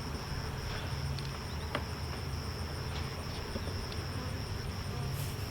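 Bees hover around freshly bottled honey, producing a steady, close insect buzz with faint overlapping drones and small ticks, heard alone without talk.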